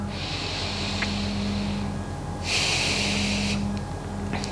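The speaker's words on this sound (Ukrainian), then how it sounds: "Вдих, видих, добре, ще раз вдих." Two long, breathy inhalations and exhalations come from a person during a morning strength workout, heard close over a constant low hum with no talk.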